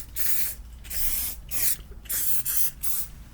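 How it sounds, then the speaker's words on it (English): An aerosol bike cleaner hisses from a can in about six short, close bursts separated by brief pauses. "So I've got my can and we literally just spray it straight on."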